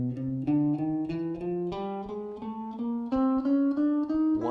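A guitar plays a four-finger warm-up exercise with alternate picking, climbing from the lowest string upward. Clear, evenly spaced single notes step steadily higher in pitch, close and alone.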